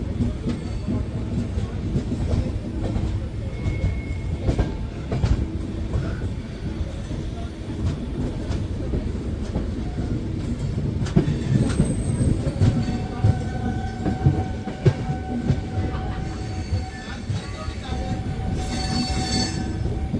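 The Dhauli Express (12822, Puri to Shalimar) rolls steadily along the tracks, its carriage rumbling low and continuously with faint wheel clatter and occasional thin squeals from the rails.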